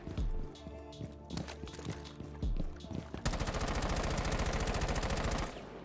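An AK-12 rifle in Rainbow Six Siege fires in several short bursts, then breaks into one long sustained automatic stream of evenly spaced shots, moderately loud and with no talking.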